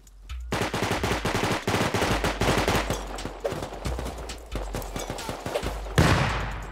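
AK rifle fire in the survival game Rust crackles almost without pause, long loud automatic strings with brief gaps and a sharper burst near the end.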